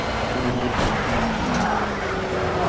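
Race car engine from Project CARS roars steadily at close range, its broad drone running loud and continuous with slight pitch shifts as the car is driven hard through the race.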